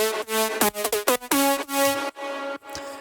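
A Serum synth lead with detuned unison voices and distortion, playing a short rhythmic phrase of bright, buzzy, harmonically rich notes, some clipped and some held, alone and up front, fading into a softer tail.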